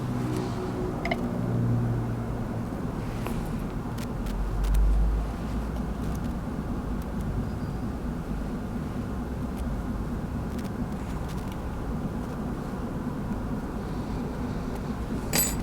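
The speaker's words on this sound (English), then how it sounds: "The nice thing about the lathe is I can control the speed and add my buffs very easily." A Foredom BL polishing lathe runs steadily throughout, a constant low motor hum and whir with no speech, holding an even level with one brief louder swell midway.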